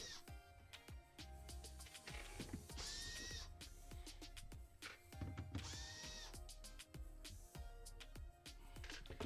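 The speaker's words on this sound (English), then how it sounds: "Now we're going to remove all these 6 1/4 screws that holding the cover for the evaporator." Screws being backed out of the evaporator cover panel inside a GE French door refrigerator, with a power driver whirring in repeated short bursts amid clicks and rattles, close and fairly loud.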